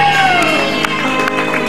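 A studio audience on the Indonesian talk show Rumpi No Secret applauds and cheers for a singer: a dense, steady wash of crowd noise with shouts and whoops mixed in, close and loud, with music-like tones running underneath.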